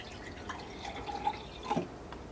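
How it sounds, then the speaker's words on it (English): Water pours from a tall glass into a cup, heard as soft, close trickling with a few brief splashy drips and gurgles, and no one talking. "We take the tall glass and we're pouring this water in here."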